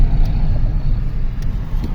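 A car engine hums low and steady as the car backs up near Half Moon Beach, a close, continuous rumble with a few faint higher clicks, no talking.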